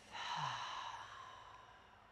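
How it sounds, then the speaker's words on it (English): A single full, breathy exhale out through the mouth during a hatha yoga session, close and soft, heard alone and fading gradually. "And full exhale, side out through the mouth."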